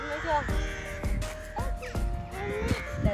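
Crows cawing outdoors while a mother and children tear bread into small pieces to feed the birds, several harsh caws at moderate distance mixed with people talking nearby.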